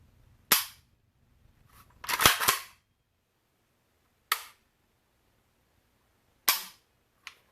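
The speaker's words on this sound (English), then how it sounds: "see how that trigger actually looks and feels" Dry-fire trigger clicks from a Riley Defense Gen 2 AK rifle: five sharp, close mechanical snaps spaced unevenly, one a quick double, each standing alone in a quiet room.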